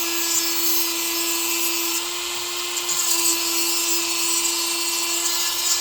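High-pitched, steady whine of a Dremel rotary tool grinding a chainsaw chain, running continuously and close with slight variations in pitch and grit.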